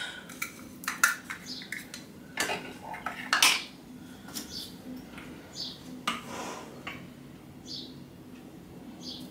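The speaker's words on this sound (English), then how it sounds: "now I'm going to add 5 ounces of almond flour" Almond flour scooped from a container into a mixing bowl in a home kitchen: quiet scattered clinks and taps of a spoon against the bowl, soft scraping, faint and close with no talking.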